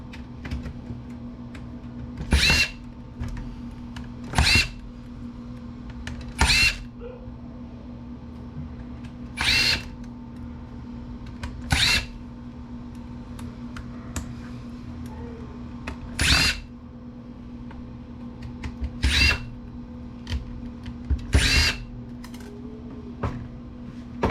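A power screwdriver backs screws out of a Dell Studio laptop during scrapping, with about a dozen short whirring bursts spaced a few seconds apart over a steady hum and small clicks of handling.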